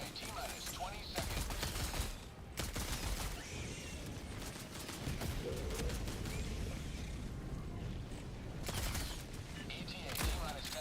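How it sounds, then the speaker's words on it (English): A shotgun fires repeatedly in Helldivers 2 during a bug hunt, heavy booming shots spaced among constant battle noise, gunfire and explosions, with voices now and then. "The shotgun firing sound is quite pleasant"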